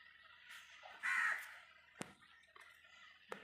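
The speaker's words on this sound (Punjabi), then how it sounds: "ਉਹ ਕਾਂ ਬੈਠਾ ਬੋਲਣ ਡਿਆ ਸਾਹਮਣੇ ਵਾਲਿਆਂ ਦੇ ਘਰਾਂ ਦੇ ਉੱਤੇ" A crow caws from rooftops of houses across the way in a village at evening, with a drawn-out caw followed by sharp calls at moderate distance over quiet rural background hiss.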